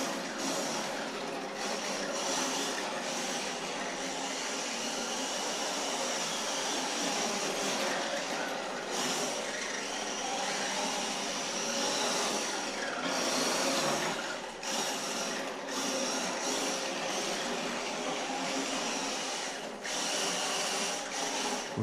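Yokomo RC car running in a sustained buzzing whine for tyre warming, a continuous motor drone with brief dips and surges, loud and steady with no talking.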